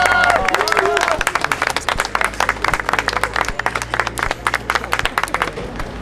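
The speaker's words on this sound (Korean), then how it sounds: "박수." Cast and crew applaud on set at the final shoot of a Korean TV drama, a loud burst of clapping that starts full then breaks into uneven, thinning claps, with voices chattering over it.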